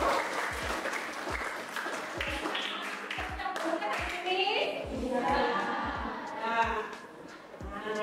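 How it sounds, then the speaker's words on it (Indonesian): A classroom of students claps hands in a teacher-led clapping routine, sharp rhythmic claps in a steady beat mixed with children's chanting voices and chatter. "Tepuk tangan dulu."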